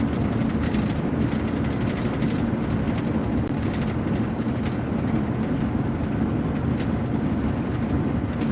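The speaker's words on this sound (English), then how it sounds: "we're going to let him finish passing us so that we can see all of the remainder of his train" A passing freight train carrying containers rumbles steadily, with a continuous low roar and faint higher rattles, while birds chirp lightly over it.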